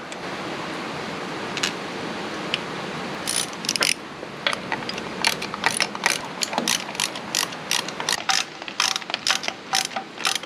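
A ratchet clicks rapidly and repeatedly close by, tightening the bolts that hold a Ford injection pump over a steady background hiss.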